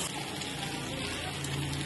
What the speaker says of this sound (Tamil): இந்த டயத்தில் நம்ம பெசரி வச்சுருக்க வாழைக்காயை அந்த தண்ணியோடு ஊற்றிடணும்.